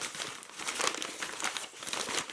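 Wrapped Secret Santa gift being unwrapped, giving continuous close crinkling and tearing of paper, fairly loud and alone.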